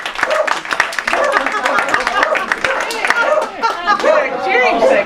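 Audience at a community performance claps in sharp irregular bursts while voices chatter and talk over it, the applause close and lively but mixed with speech throughout.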